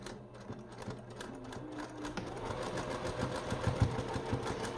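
A sewing machine stitches fabric with a fast, even mechanical whir, quiet and close, that grows a little busier toward the end. Nobody speaks.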